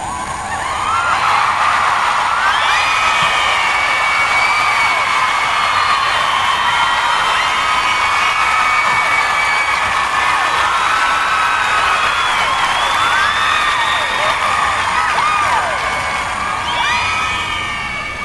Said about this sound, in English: to all my Lassie out there for that thunderous applause